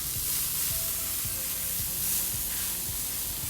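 Broccoli sizzling on an oiled flat top grill, a steady bright hiss with faint crackles and a few soft clicks, close and continuous throughout.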